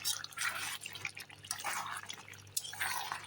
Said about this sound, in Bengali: এখন একটু আমি জল দিয়ে দেব